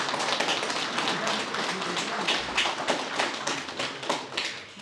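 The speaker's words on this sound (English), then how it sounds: "I think we'll start by giving the man of the evening a big round of applause" A crowd at a book launch gives a photographer a big round of applause, a dense, continuous patter of many hands clapping at close range for nearly five seconds.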